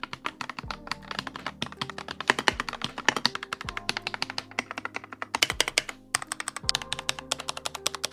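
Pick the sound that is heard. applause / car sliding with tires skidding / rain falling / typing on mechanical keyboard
typing on mechanical keyboard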